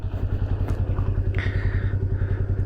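A 1994 Honda Magna 250 V-twin cruiser engine runs with a loud, close, rhythmic low-pitched throb, steady throughout the short stretch.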